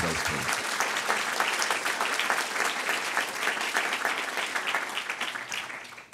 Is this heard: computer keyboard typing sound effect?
no